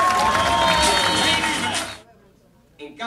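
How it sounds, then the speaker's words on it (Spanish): Crowd at a political committee meeting in Puerto Rico applauds and cheers loudly for about two seconds, then cuts off abruptly to near silence before a voice begins at the end. "le demos un fuerte aplauso a quien viene a seguir gobernando a Puerto Rico, el mejor gobernador, Luis Fortuño."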